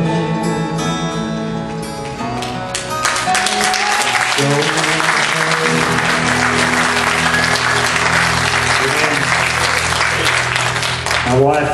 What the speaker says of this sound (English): She's back there clapping.